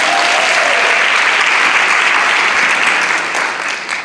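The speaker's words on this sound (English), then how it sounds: "If you're excited, clap for me." Audience at a special reparations committee meeting clapping steadily and loudly, a dense sustained wash of applause that tapers slightly at the end.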